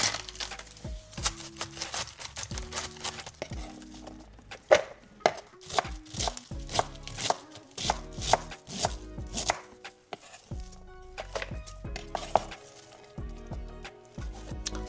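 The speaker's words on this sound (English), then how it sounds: "Our cabbage is all diced up." A knife chopping cabbage on a cutting board during meal prep, a long run of crisp, close, irregular thwacks in quick bursts with brief pauses, no talking.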